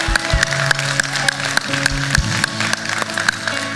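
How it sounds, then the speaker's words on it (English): A church congregation claps in steady rhythm during worship, crisp evenly spaced handclaps over low music, loud and close with no clear talk. "Everybody clap your hands, Lord."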